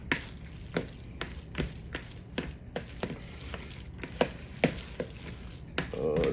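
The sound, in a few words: mixing potato filling with onions and bacon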